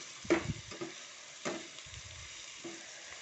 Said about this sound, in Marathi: कांदा आपला परतत आहे